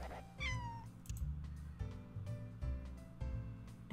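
A cat meows in a dog-rescue video game, a clear rising-falling meow near the start over looping background game music with soft rhythmic beats.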